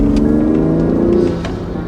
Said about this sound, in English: it's a cool new sound mod for the X5